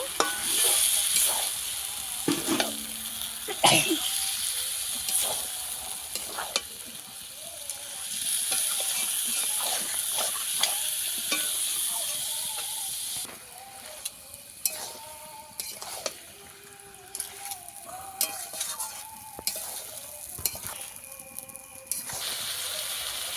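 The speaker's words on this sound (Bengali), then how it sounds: "এই মাংসটাকে ভালো করে আবারও মশলার সঙ্গে কষিয়ে নেব।" Chicken pieces are stir-fried with spices in a hot pan, giving a steady sizzle broken by repeated scraping and clattering stirs, loud and close, with little talk.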